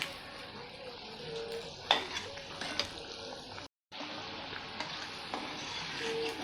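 Vadas deep-fry in hot oil, giving a steady, close crackling sizzle with occasional light clinks of a utensil and a brief gap, with no voices.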